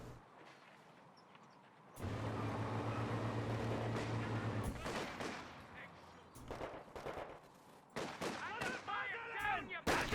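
Combat in Company of Heroes 2 during a 4v4 match on La Gleize, with sustained gunfire, a machine gun burst and scattered shots and impacts at moderate distance, plus faint voices mixed in.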